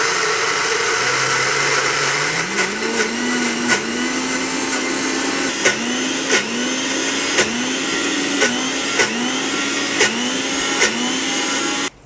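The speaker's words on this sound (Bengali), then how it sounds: "এবার এটা আমরা পেস্ট করে নেব মিক্সিতে।" Mixer grinder grinding soaked chana dal with ginger and two green chillies into a paste: a loud, steady motor whine that rises in pitch early on, then settles, with regular pulsing surges and knocks throughout, no voices.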